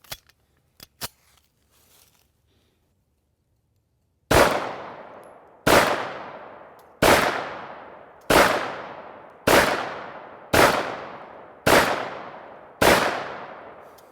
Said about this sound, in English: let's load this thing and shoot a few rounds